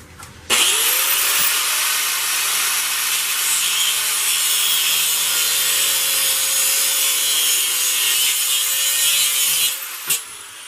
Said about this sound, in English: so there's the rough grind for those slots